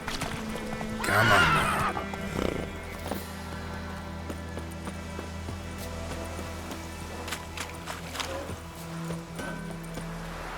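Geralt's horse Roach in The Witcher 3 gives a loud whinny and then clip-clops along at a steady gait, with hoofbeats continuing under a short spoken line.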